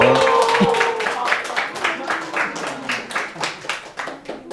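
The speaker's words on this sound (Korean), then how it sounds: "박수로 환영해 주시고" A church congregation claps in welcome during a Sunday service, a voice trailing off at the start before a rhythmic burst of many hands takes over and gradually thins toward the end.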